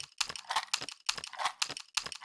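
Nails jingle and click in quick metallic bursts, several small rattling hits in a loose repeating pattern, close up and soft, recorded as a sample for layering with drums.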